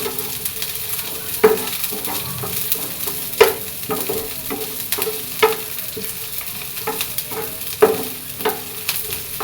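Stem amaranth greens fry in mustard oil with a steady close sizzle, punctuated every couple of seconds by sharp scraping stirs of a spatula against the pan.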